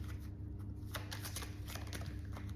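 Cards from a romance angel oracle deck are shuffled and drawn with a series of soft, quick papery flicks and riffles, faint and close, over a low steady background hum.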